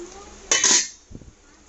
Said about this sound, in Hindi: ये सब बर्तन वगैरह उठा के रखूँ सुबह का